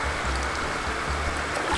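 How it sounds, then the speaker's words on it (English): A giant waterfall in the Alaskan wilderness sends out a steady, unbroken rushing roar from some distance, with no voices over it. "I hear a giant waterfall this way"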